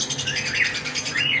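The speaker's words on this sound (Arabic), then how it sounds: "معانا جوز الكوكتيل برضه شغالين" Cockatiels in an aviary chirp in quick, bright repeated calls that overlap closely, with a soft background rustle.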